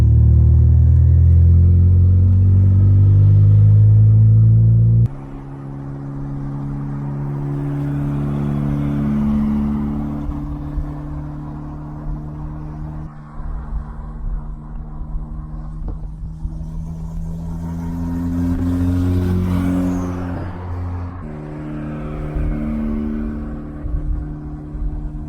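A turbo Toyota Corolla drives along dark roads, its engine droning low and steady inside the cabin, with gear shifts and changes in revs breaking up the rumble.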